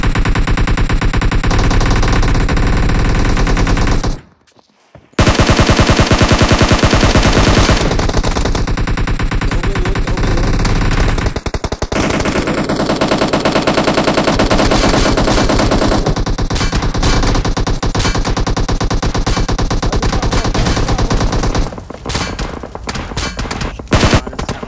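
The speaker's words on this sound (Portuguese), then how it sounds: "Rick, dá tiro na bala pro cara aí." Nearly continuous rapid gunfire from a video game, loud and dense, broken by a brief silent gap early on, with bursts and shots layered together.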